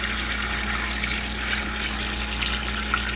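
Cold water pours in a steady, gushing stream into a large 16-quart stainless stock pot full of turkey stock ingredients, a continuous close splashing hiss with no talk.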